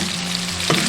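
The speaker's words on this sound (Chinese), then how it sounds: "像这样五花肉表皮焦焦的，而且这些香味全部炒出来" Pork belly stir-fried with dried seafood in a wok, giving a steady, dense sizzle close up for a brief second, with a small scrape of stirring near the end.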